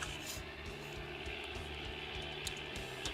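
Aircraft engine from a flight simulator game, an airplane throttling up for takeoff at an airport, heard as a steady, fairly constant droning roar with a whining hum throughout.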